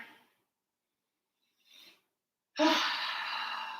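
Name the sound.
deep breath during yoga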